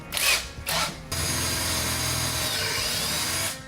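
A power drill with a 3/8 bit bores a hole through a KMC Machete beadlock wheel, whining steadily and close after a couple of brief starts.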